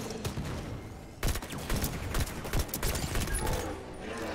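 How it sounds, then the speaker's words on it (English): Rapid gunfire from a magnum and battle rifle in Halo 5, dense bursts of sharp shots in quick succession after a brief lull, loud and close within game ambience. "Magnum battle rifle."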